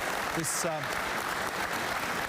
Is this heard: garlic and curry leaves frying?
no